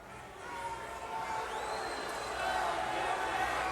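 A large indoor wrestling arena crowd roars and cheers steadily, with a dense wash of voices that swells slightly toward the end.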